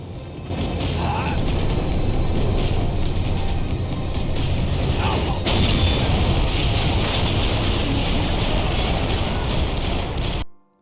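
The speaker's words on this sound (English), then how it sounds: "And we even end up jumping onto another train from the one we are already riding." Clanking, ratcheting mechanical noise and rumble during a train-ride shootout in the video game Max Payne 3, continuous and dense with a sharp burst midway.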